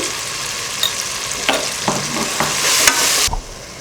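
Chili, coriander and garam masala powders sauté with tomato in a hot pan for egg biryani, giving a close sizzle broken by several sharp scraping stirs of a spoon and a brief louder burst near the end.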